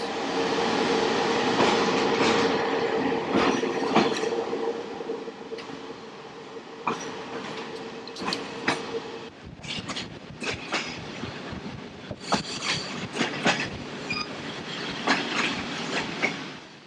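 Bulgarian passenger train running on the line between Burgas and Karnobat, a continuous rolling rumble from inside with a steady tone early on, then irregular rattling clicks and clacks of wheels over rail joints.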